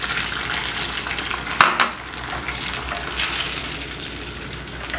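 Thawed shrimp fry in melted butter with a squeeze of lemon in a pan, a steady close sizzling hiss broken by a short clatter of stirring, with no voices.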